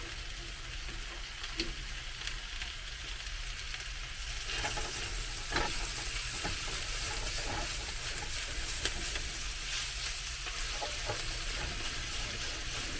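Turkey stir fry sizzling and frying in a pan with too little grease, sticking to the bottom, giving a steady broadband crackle with occasional sharper pops, a little louder in the second half; no talking.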